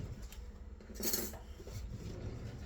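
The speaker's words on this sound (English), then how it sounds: "let me get a new spoon" Metal cutlery clinks as a fresh spoon is taken in a kitchen while cooking a creamy Parmesan Italian sausage soup, a short bright jangle in the middle with faint clatter around it.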